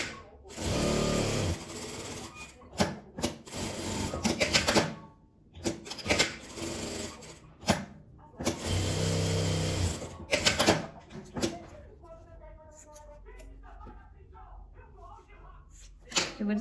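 A sewing machine stitches around the edges of folded fabric scraps in loud, fast bursts broken by pauses with rustling cloth, and someone speaks Portuguese in between.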